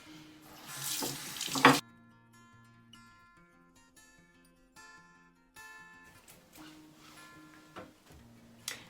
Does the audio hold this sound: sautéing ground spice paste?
no